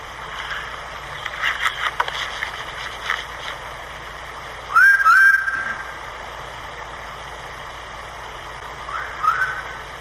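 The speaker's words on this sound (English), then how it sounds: "This one is a whistle. This guy whistled and got a whistle back." A person's whistle recorded at the Ohio State Reformatory: two short rising notes fairly close, then several seconds later a fainter single whistle answers from a distance, over steady low background hiss.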